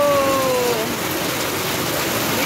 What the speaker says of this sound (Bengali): বাপরে কি বৃষ্টি গো